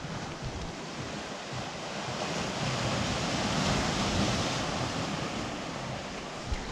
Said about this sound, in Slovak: Tie vlny sú extrémne silné